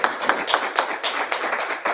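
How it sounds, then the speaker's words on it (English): A church congregation applauds a prayer leader at a Sunday service, a steady wash of many hands clapping with scattered sharper claps, moderately loud and close, with no voices standing out. "we could do an applause for Jean DeMusio"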